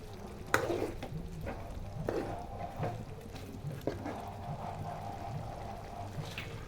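Yogurt is stirred into chicken gravy in a pan, with soft scraping strokes of a spoon, wet squelching, and a low simmering bubble underneath, close and moderately quiet.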